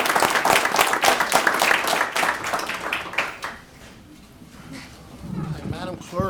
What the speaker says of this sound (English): If everybody would give a round of applause to these two ladies for this.